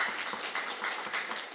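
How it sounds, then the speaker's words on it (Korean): A church congregation applauds during a Sunday service, with faint, even clapping from many people that continues at a distance without a break. "박수해 주시면 감사하겠습니다"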